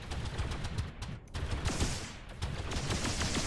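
Enemy gunfire in the space combat game X3: Terran Conflict, a dense run of rapid shots and bursts crackling close by, with a brief lull before the firing swells again.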